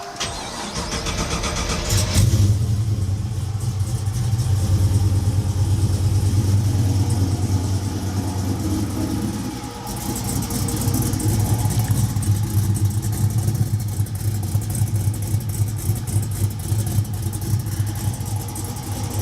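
A 1969 Chevelle Malibu V8 with an exhaust cutout rumbles loudly and steadily close by, its deep idle swelling into heavier revving for several seconds before settling back to a throaty, continuous run.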